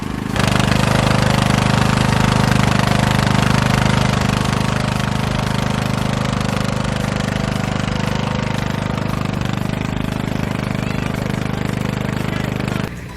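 A tractor stuck in soft ground near a horse barn under construction keeps its engine running, a loud, steady, rough rumble with a knocking edge that holds for the whole stretch.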